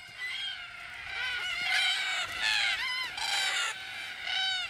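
Wild black cockatoos at an Australian watering hole at evening give loud harsh, grating screeches, several overlapping calls in rough bursts, close by and repeated.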